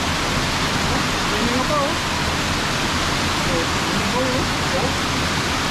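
Water roars steadily through a reopened dam gate, carrying many fish, in a loud, unbroken rush close by, while people talk over it.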